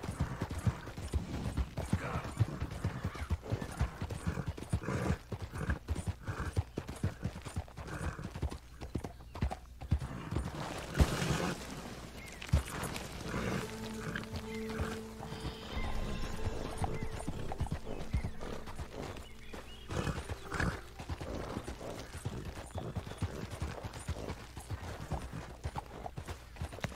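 Red Dead Redemption 2 horse galloping with steady clip-clopping hooves in a quick rhythm throughout, whinnying partway through over a low background hum.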